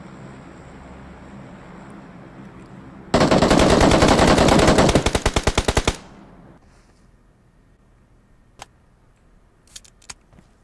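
A long, loud automatic gunfire burst of rapid, evenly spaced shots in BGMI (Battlegrounds Mobile India) lasts about three seconds over quiet game ambience, followed by a few faint, isolated clicks.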